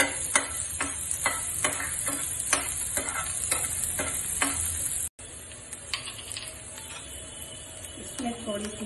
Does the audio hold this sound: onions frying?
yes